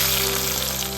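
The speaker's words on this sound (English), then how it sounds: "Let the mustard seed crack." Mustard seeds crackle in half a cup of hot coconut oil, a dense close sizzling hiss with fine rapid pops throughout, loud and continuous with no voices.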